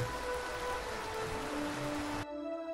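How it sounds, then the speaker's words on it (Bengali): Light drizzle falls at Reshikhola beside a river, a soft, steady patter and hiss that cuts off abruptly near the end. "ঋষিখোলায় ঢুকলাম, ঝিরঝিরি বৃষ্টি পড়ছে।"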